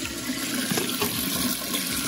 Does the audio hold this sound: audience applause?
no